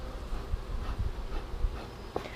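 Bees buzzing around a beehive frame during a honey super addition, a close, continuous insect hum with occasional louder low thumps and handling noises.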